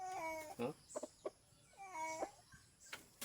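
Quiet, distant crowing from junglefowl, with a couple of drawn-out calls separated by brief clucks and small clicks, faint against a soft background.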